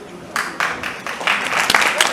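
A burst of audience applause for a woman panelist at a Nigerian engineering event, rising in waves of clapping for about two seconds, fairly loud and close, with voices mixed in.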